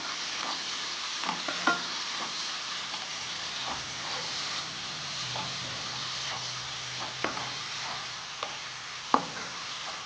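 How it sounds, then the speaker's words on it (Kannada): Chopped fenugreek leaves sauté in a pan with a steady, close sizzle, broken by occasional sharp scrapes and clicks of a stirring utensil. "ಇವಾಗ ಇದನ್ನು ಚೆನ್ನಾಗಿ ಬಾಡಿಸ್ಕೊಳ್ಳಿ ಮೆಂತ್ಯ ಸೊಪ್ಪನ್ನು."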